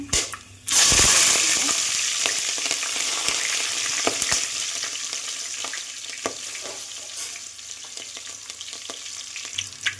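Cinnamon and cloves dropped into hot oil, with green chillies to follow, for South Indian kushka rice, erupting into a loud sudden sizzle that slowly settles into steady frying crackle with scattered pops and occasional stirring clinks.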